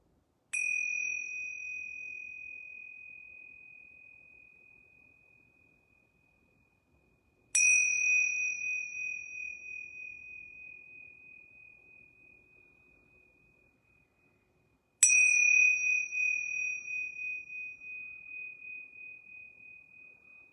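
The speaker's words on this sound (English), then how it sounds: "I'm going to ring these yoga bells 3 times." Yoga bells ring three times at even intervals, each a clear bright tone that rings out and slowly decays into silence before the next strike.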